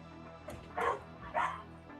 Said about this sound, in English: He looks over his shoulder at the sound of dogs barking.